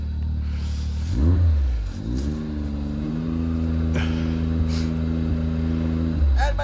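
A Can-Am Maverick X3 XRS off-road vehicle engine revs up while mudding with a snapped axle, then holds a steady, rising drone for several seconds, loud and close, with brief voices at the start and end.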